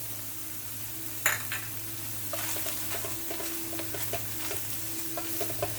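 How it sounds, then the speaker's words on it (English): Flour is stirred into browned hamburger in a pan for breakfast gravy, a spoon scraping and tapping the pan in an uneven rhythm over a soft sizzle and a low background hum, with no one speaking. "You want to stir this up."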